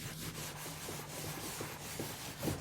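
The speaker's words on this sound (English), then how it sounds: "So take this little abrasive sponge and do this on this part here, and do it gently" A small abrasive sponge rubs gently over brass screws on old furniture, giving a soft continuous scrubbing hiss with faint rhythmic strokes, close and quiet, with no talking.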